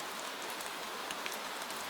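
Gentle rain falling on a night in Venice near a moored boat with a lantern, a steady soft patter with scattered drop ticks, even and unbroken throughout.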